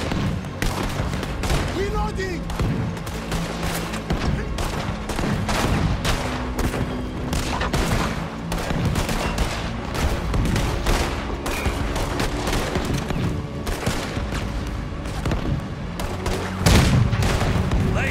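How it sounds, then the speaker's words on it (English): Red Dead Redemption 2 shootout with rapid, relentless gunfire, dense overlapping shots and booming blasts cracking close by for the whole stretch, with occasional shouted voices mixed in. "There was quite some shooting"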